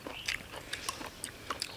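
Close, quiet crunchy chewing of a Thai taro-stem curry with pork, several sharp bites and crisp mastication sounds in quick succession, with no talking.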